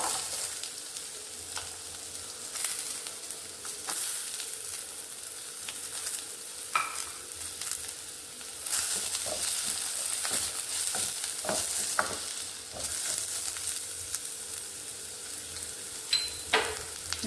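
Chopped onions tipped into hot oil with cloves and cardamom for an egg gravy, a steady close sizzle and fry with scattered stirring scrapes and clicks throughout, no voices.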